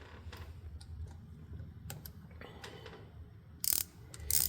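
A ratchet with a 1/4-inch 12-point socket tightens lifter block bolts into aluminum on a 1991 Harley-Davidson Evolution engine, giving a few short, close clicking bursts near the end over a quiet workshop background.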